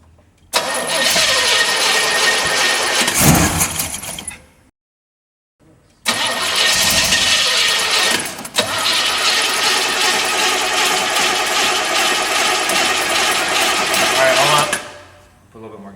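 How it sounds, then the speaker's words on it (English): A ten-year-idle Chevrolet El Camino with fuel poured down the carburetor cranks loudly, pauses, then cranks again and catches into a rough, sustained running roar close by. "I put a little bit down the carburetor, so I'm going to have Mark turn the key, and we'll see if this thing will kick over"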